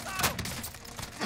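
Gunfire in Call of Duty Warzone: a short, muffled burst of a few shots, fairly faint, in a brief moment of gameplay.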